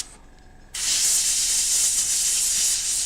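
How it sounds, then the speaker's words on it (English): Spray paint hisses out steadily at close range onto a miniature, black paint going on in one continuous loud burst after a brief quieter start, with no talk over it. "Spray him with the black stuff."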